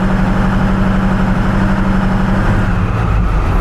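A triple-turbocharged 7.3 diesel engine runs rough and loud up close, a steady low droning rumble that barely rises in pitch, without talk.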